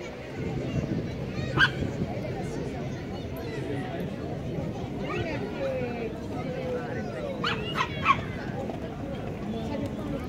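A dog barks a few times in the middle distance amid a crowd's chatter and nearby talking.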